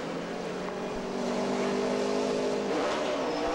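NASCAR race cars pull away from pit road under caution at a 2007 Busch Series race, a continuous engine drone with steady pitched tones rising slightly, heard from a distance amid track ambience.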